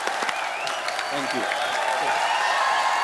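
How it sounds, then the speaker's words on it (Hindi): Applause from a studio audience on a TV comedy show fills the background, steady and moderately loud, while a voice speaks briefly over it. "जोरदार तालियां"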